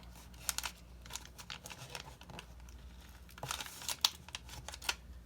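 Freezer paper crinkles and rustles as it is folded and pressed into a soap mold, with soft intermittent crackles and a few sharper creases, close and fairly quiet.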